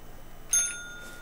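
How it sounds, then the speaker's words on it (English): A small bell, like a bicycle bell, rings once sharply for cat treat time, leaving a short bright ringing tail in an otherwise quiet room. "Ring the bell."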